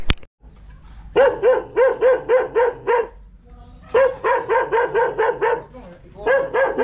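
A dog barks loudly and close in quick repeated bursts, three volleys of five or six barks separated by short pauses.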